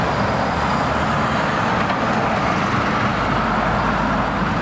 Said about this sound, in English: these stupid trucks.